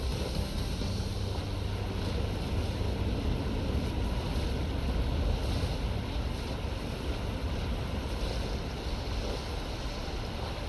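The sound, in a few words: kayak moving over water, from a video game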